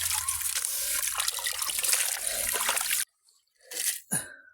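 Water pours and splashes continuously for a few seconds while crabs are washed, then stops, followed by a couple of short splashes.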